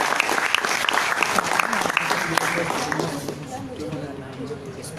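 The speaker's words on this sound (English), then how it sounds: "I think a big round of applause for that." Audience applause at a student debate on social media is heard with sharp individual claps under a talking voice, then fades to softer scattered clapping and room noise.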